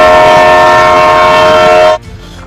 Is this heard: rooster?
no